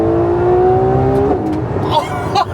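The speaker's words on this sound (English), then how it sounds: "Listen to this V12." A Ferrari V12 engine revs up with a rising, sustained whine, then drops off, with a couple of sharp intake bursts near the end.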